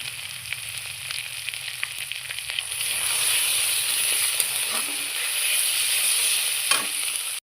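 Spice paste with Sunrise chili powder frying in oil for a fish-head muri ghonto, a steady close sizzle with crackling spatters that grows louder midway and stays strong, with occasional stirring clinks, and no talk.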